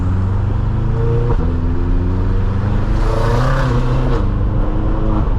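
A tuned 800 HP BMW M6 driving on New York City streets, its engine droning loud and close with rising and falling revs, a fluttering idle-like waver and a brief blip near the middle.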